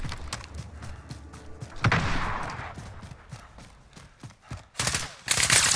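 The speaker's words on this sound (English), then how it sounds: "Shooting at me. He's shooting at me." Gunfire in Call of Duty: Modern Warfare Warzone, with sharp shots spread irregularly through the clip and heavier bursts building near the end. There is faint background noise and no talking.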